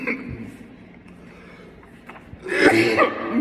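A person coughs and clears their throat in a room with air conditioning, a few rough, close bursts near the end after quieter low background sound.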